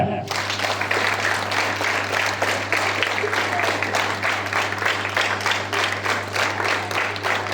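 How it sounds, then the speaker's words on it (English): A group, apparently students in a drill lined up on command, claps hands together in a steady, dense patter that continues evenly throughout, loud and fairly close, with a low constant hum underneath. "Clap."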